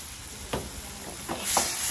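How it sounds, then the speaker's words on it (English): Herbs and seasoned salt are stirred into a pan for a tomato sauce, producing three or four brief scraping strokes over a constant sizzle in a short burst with no speech. "And we're gonna stir it."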